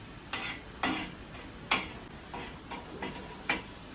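Gram flour dry-roasting until brown in a pan for a village-style chicken curry, stirred in about seven soft, evenly spaced scraping strokes over a faint background hiss.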